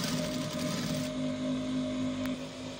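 A sewing machine runs continuously while sewing a kimono jacket up to the armhole, a steady close whirr with a constant tonal hum, its pitch and level shifting slightly partway through.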